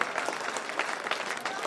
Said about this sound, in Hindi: बजाओ ताली चौबे जी के सम्मान में।